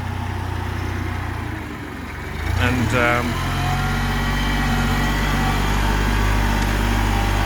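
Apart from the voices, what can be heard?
Kubota tractor engine running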